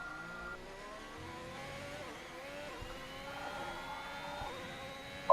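A Formula 1 car engine in a racing video game at Bahrain holds a steady, moderately loud whine whose pitch climbs and shifts through gear changes, with no voices over it.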